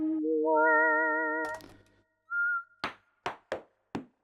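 Whistle preset on a Casio CZ-101 synthesizer: a pure, slightly wavering whistled tone steps upward and holds, then a short whistle blip follows, and four sharp percussive knocks ring out separately.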